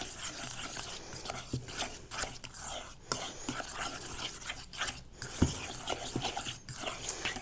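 Corn kernels are stirred into a corn tortilla dough, making a soft, continuous wet rubbing and scraping with small irregular clicks and thuds, close and fairly quiet, with no talking.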